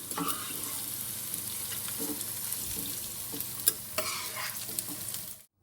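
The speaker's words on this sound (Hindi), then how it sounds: "कढ़ाई में ऑयल, एक अदद प्याज, हरी मिर्च, लहसुन, अदरक डाल के फ्राई कर लें।" Onion, green chilli, garlic and ginger sizzle steadily in hot oil in a kadai, with occasional scrapes of a spoon stirring the pan, and the sizzle cuts off at the end.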